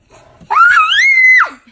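A child yells one loud, sustained shout indoors, rising and holding for about a second before breaking off, close and alone after a soft murmur.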